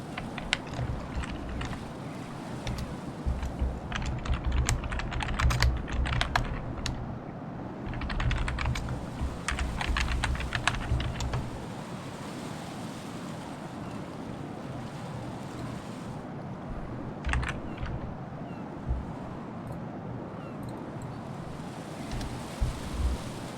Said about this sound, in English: I think that's really loud in the mic now, by the way. Me typing anything.